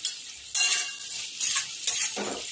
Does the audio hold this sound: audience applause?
no